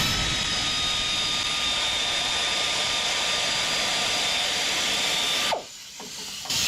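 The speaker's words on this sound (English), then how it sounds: "Break out the power tools, make it a little easier." A power tool loosening tractor bolts runs with a loud, steady whining drone for several seconds, then abruptly cuts off, leaving a brief quieter lull.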